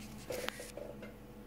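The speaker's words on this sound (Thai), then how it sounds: "เสียงคีย์บอร์ดดัง" A cat treading on a computer keyboard, giving a few soft, close clicks and taps in a short quiet moment with no voice.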